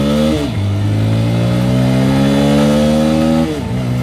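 A Pulsar M160 motorcycle accelerates hard on the road, its engine note climbing steadily, dipping briefly at a gear change, then rising again. The engine is loud and close, and no one speaks.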